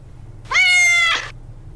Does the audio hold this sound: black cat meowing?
yes